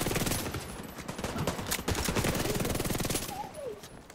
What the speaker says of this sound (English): The amount of bullets just flying through it is just lovely.